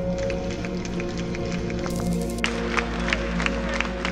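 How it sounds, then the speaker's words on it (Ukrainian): Deputies of the Ukrainian parliament applaud the 1991 proclamation of independence, a steady wash of clapping from a large hall crowd, heard as an old recording with a persistent hum underneath. "Депутати аплодують, проголосивши незалежність України."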